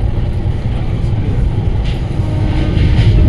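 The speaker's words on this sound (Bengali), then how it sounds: "এই স্পিডে এখন ট্রেন চলছে" Dhauli Express passenger train running at about 110 km/h, heard from inside an AC chair car: a steady, loud broadband rumble of wheels and carriage noise, continuous throughout with no talk.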